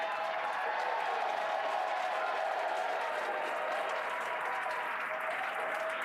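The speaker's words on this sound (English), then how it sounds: "Crowds cheering here at SpaceX Mission Control Hawthorne" A crowd at SpaceX Mission Control in Hawthorne cheers and applauds for a Falcon 9 booster landing, a steady wash of clapping and cheering that runs without break throughout.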